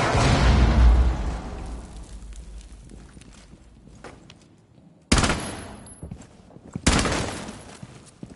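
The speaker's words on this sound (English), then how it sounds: "Nitro detonated" A nitro explosive detonates in a video game: a sharp loud blast that rings out and decays, then a second explosive burst follows, with scattered gunfire-like crackles between and no speech.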